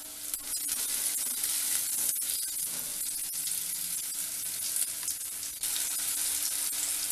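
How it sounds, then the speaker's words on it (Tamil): Tomatoes frying in a pan for paneer gravy give a steady, loud, close sizzle throughout, with brief dips as they are stirred, and no one talks. "தக்காளி பழம் நல்லா வதங்கிடுச்சு."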